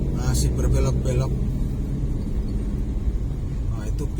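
A bus rumbles along a winding mountain road at night between Banjaran and Pangalengan, its low engine drone steady throughout, with a voice talking over it near the start.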